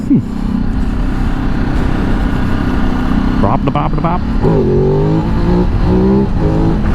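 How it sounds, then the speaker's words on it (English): A 2024 Ducati Desert X Rally motorcycle revs hard and climbs through second gear into a wheelie, its engine roaring loud and close with rising pitch sweeps, while a rider's voice talks over it. "Oh yeah, easy wheelie, second gear, no problem whatsoever."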